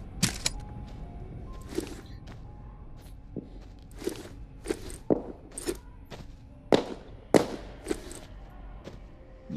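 Sharp, crunchy video game gunshots go off irregularly, some in quick pairs, over a low background hum.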